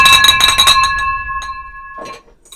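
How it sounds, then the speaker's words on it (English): A single bright bell strikes loud and close, its clear ringing tone decaying over about a second, followed by a faint clink and a short rustle, rung on a livestream to celebrate a closed property deal. "hit the bell."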